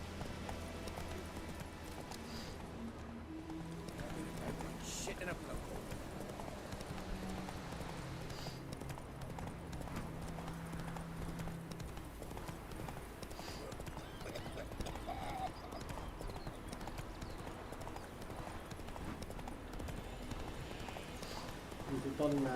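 Galloping horse hooves in The Witcher 3 video game, a continuous rapid clip-clop rhythm with occasional whinnies over a steady background, while someone talks throughout.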